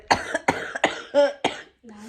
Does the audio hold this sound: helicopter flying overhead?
no